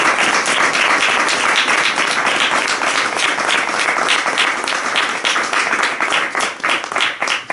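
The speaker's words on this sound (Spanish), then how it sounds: "Pues un aplauso por favor a Leopardi." Audience at a poetry reading in Granada breaks into loud, sustained applause, dense clapping that holds steady before thinning into scattered claps near the end.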